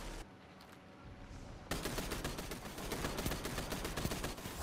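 Rapid automatic gunfire from a Destiny 2 firefight, a quieter stretch giving way to dense, sustained bursts of shots that stay loud and steady to the end.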